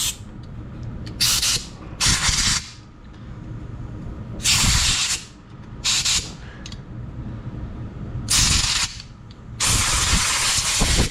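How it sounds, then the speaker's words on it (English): Compressed air from a nozzle blasts out the orifices of a Troy-Bilt 190cc lawn mower carburetor in six short, sharp hissing bursts separated by brief pauses, close by and loud, with no speech. "So I'm gonna take my compressed air here, watch your eyeballs, and I'm just gonna blow all the orifices out I can think of."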